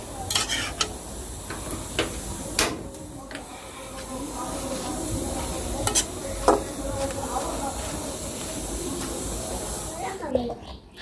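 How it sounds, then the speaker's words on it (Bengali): Leafy greens frying with onions and chilies in a pan, a continuous hissing sizzle punctuated by sharp scrapes and clacks of stirring, with a voice speaking faintly at times. "শাকটা আমি তো ভাজি করে ফেলছি"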